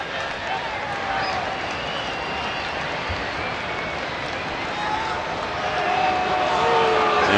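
Broad, sustained roar of a baseball stadium crowd at a St. Louis at Philadelphia game, voicing displeasure as a steady wash of murmuring and jeers that swells toward the end.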